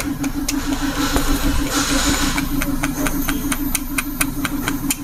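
A car engine idles steadily with a rapid, even putter and a faint hiss, plus scattered light ticking and tapping on top.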